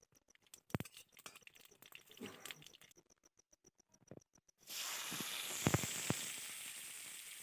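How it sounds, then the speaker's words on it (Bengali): Dry red chillies and mustard seeds hit hot oil in a kadai: a sparse run of quiet crackles and pops, then a sudden loud, steady sizzle with sharp spits close by. "কড়া বসিয়ে তেল দিয়ে দিলাম, শুকনো লঙ্কা ফোড়ন দিলাম, সর্ষে ফোড়ন দিলাম"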